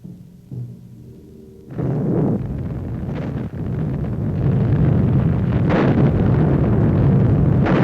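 A massed World War II artillery barrage from archival footage, a dense continuous roar of gunfire and rumbling blasts swelling after a quieter start, with sharper booms standing out, no talk.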